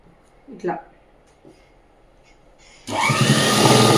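An electric sewing machine runs steadily and close by, stitching a garment's lining front panel together with the main cloth on top. It starts abruptly after a few faint handling taps and a short murmur, then holds a loud, continuous whir.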